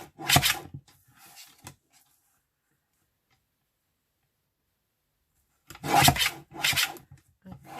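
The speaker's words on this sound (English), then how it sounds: "what I want to do is just very slightly trim down that rough edge" Scissors trim a rough, bumpy edge off scrapbook paper for a winter journal panel, giving short rasping cuts near the start, then a long silence, then another close burst of snipping and rubbing at the end.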